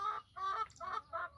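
A rooster or fighting cock on a small farm with laying hens and ducks gives four short, evenly spaced throaty calls, fairly faint and alone.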